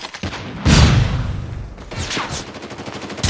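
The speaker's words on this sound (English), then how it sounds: "Flashbang!" A flashbang grenade detonates in Call of Duty Mobile with a loud burst and rumble, followed by scattered gunfire and further impacts in a busy firefight.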